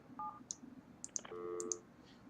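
Placing a phone line in the building-management video game Project Highrise triggers a short series of faint electronic tones and soft clicks, like telephone dialing.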